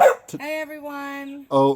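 A pet dog barks and yips once at close range, a single drawn-out, wavering bark between a person's brief spoken greetings.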